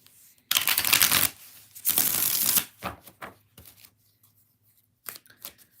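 Cards shuffled for a yes/no tarot reading: two long riffling bursts up close, then a run of softer taps and shuffles squaring the deck, alone without talk.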